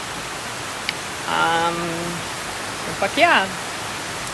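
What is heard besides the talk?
tropical rain pouring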